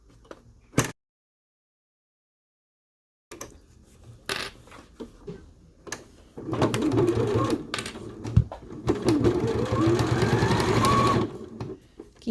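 A sewing machine stitches a T-shirt coverall bib in short starts and stops, with clicks and handling noises between runs and a longer steady run toward the end, close by.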